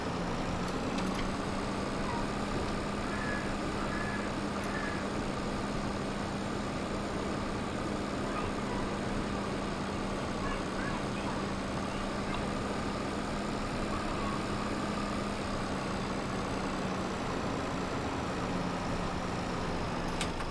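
A 1965 Polish tractor engine drones steadily in a farm simulator game, a continuous low mechanical hum with no breaks, moderately loud and alone throughout.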